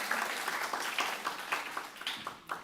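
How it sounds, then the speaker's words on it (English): An audience applauds at the 2024 Ulsan Lincoln English speaking contest: a steady wash of many hands clapping, moderately distant and even, with a few louder bursts, no talk over it. "Please give them an applause, please."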